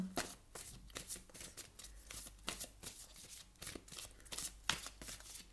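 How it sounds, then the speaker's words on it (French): Oracle cards from a wing-themed wisdom deck being shuffled and drawn by hand, a steady run of crisp riffling flicks and soft card slaps, close and fairly quiet, with no talking. "On va aller prendre une carte des ailes de la sagesse"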